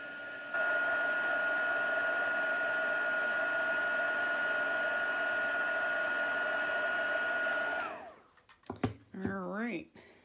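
A heat tool for melting embossing powder blows with a steady, loud whirring hiss for about seven seconds, then cuts off as it is switched off, followed by brief clattering and a voice.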